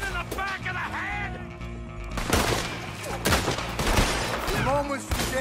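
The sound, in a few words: gunfight gunshots in video game Red Dead Redemption 2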